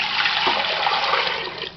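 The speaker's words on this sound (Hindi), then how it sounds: "सबसे पहले हम इसमें 4 गिलास पानी शामिल कर देते हैं।" Water poured in a steady, loud rush into a pressure cooker while making white beans dal, continuous and close for nearly two seconds before easing slightly at the end.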